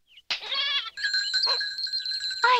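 Cartoon goats bleat in a sequence of wavering, nasal cries. A short bleat is followed by longer, higher-pitched calls that fill the short stretch, with no speech over them.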